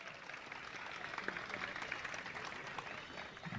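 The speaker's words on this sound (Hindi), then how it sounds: "तालियां अपने लिए।" Faint, distant applause from the audience at a Jain spiritual question-and-answer gathering with Praman Sagar Ji Maharaj, a soft continuous patter that holds level for several seconds with a voice faintly over it.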